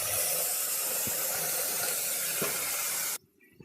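Ground greens hit a hot tempering of mustard seeds, onion and curry leaves in oil, giving a loud, steady hissing sizzle that stops abruptly, leaving near silence.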